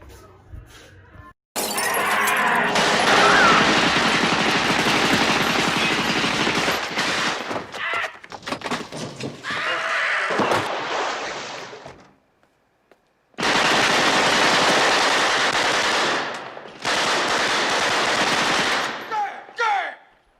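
Machine gun fire from a Scarface movie scene rattles in long, dense, loud bursts with glass shattering, broken by short silent gaps.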